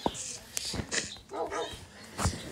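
Dogs barking and yipping in the Minecraft video game, several short barks and a whimper scattered across the moment, close and fairly loud over a game background.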